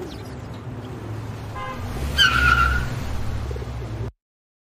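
A car pulls away with a swelling engine note and a short high tooting horn-like chirp partway through, then the sound cuts off abruptly.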